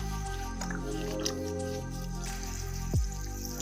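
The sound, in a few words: water being poured on a marigold plant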